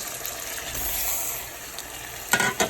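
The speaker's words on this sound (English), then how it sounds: "I still have my turkey neck here still frying up" Turkey neck for Jamaican curry sizzles steadily in a pan, a close, continuous crackling fry with a couple of sharper spattering bursts near the end.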